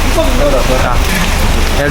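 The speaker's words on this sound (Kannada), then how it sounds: "ಭಾರಿ ಮಳೆ ಬರ್ತಾ ಉಂಟು" Heavy monsoon rain pours down near Gundya, making a loud, dense, steady roar of water that fills the whole moment without letup.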